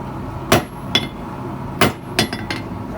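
A hammer strikes a hot cut tool on the diagonal across its corners at the forge, five sharp ringing metallic blows spaced irregularly, loud and close, with no speech.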